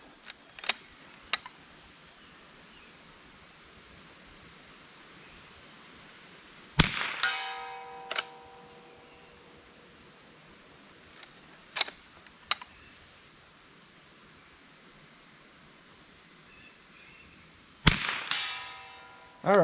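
A rifle fires Norma TAC-22 rounds into ballistic gel, a handful of sharp, cracking reports spaced irregularly apart, some paired closely, each ringing briefly against a quiet background.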